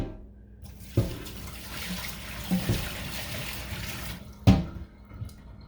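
Tap water runs into a cooking pot in a home kitchen, a steady close rush with a few louder clunks and splashes as the pot shifts, without talking.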